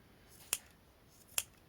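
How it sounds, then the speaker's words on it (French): Two sharp scissor snips cutting material for a handmade jewelry keychain, spaced about a second apart, close and fairly quiet with no talking. "Et on vient couper pour que ça soit droit."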